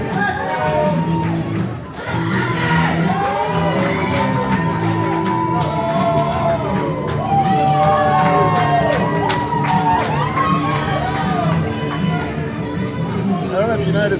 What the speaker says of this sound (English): The crowd here loving Frankie Quinn.